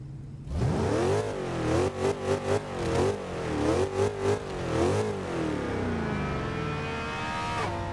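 A 1970 AMC Rebel in Forza Horizon 2 revs hard, its engine note rising and falling in several loud pulses, then settling into a sustained high whine as it accelerates, with no talking.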